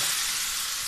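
Bell pepper frying in a hot pan with garlic, onion and ham, a loud, steady, hissing sizzle close up with no talk.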